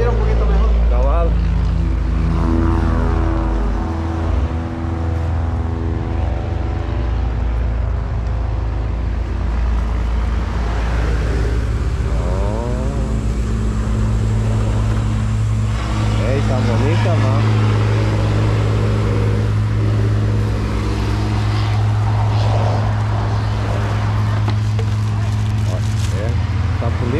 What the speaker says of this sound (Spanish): el ruido de los carros aquí